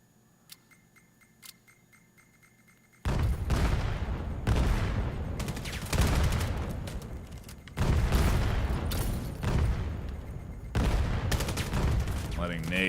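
Grenade blasts and bursts of gunfire from a competitive VAIL VR match, starting after a quiet few seconds and then coming in repeated loud, dense volleys over several seconds.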